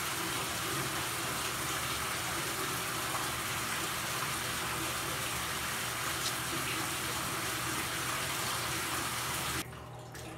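Tap water gushes steadily at close range while hair dye is rinsed out, a continuous broadband splashing rush that cuts off abruptly near the end.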